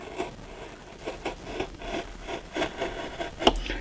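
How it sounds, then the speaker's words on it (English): A small blade rasps back and forth through the overhanging edge of a model railroad kit piece for a paper mill building, with repeated close, scratchy strokes in an uneven rhythm. "Now we'll cut the overhang off of the backside."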